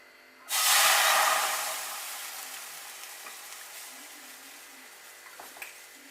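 A sudden loud hiss and sizzle as milk is poured into a hot pan, fading into a steady bubbling simmer with small pops.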